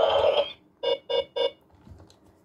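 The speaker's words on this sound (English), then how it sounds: "they give you the beeping noise instead of coming light" Three short, evenly spaced electronic beeps from a Neo Diendriver toy transformation belt reading a card, loud and close, following a longer tone at the start.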